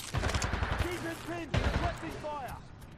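Gunfire crackles in rapid bursts during a Titanfall 2 campaign mission, with a voice talking over the shooting and some tonal game sounds mixed in.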